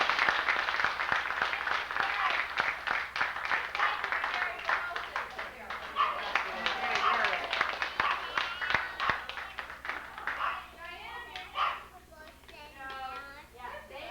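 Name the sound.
family cheering and applauding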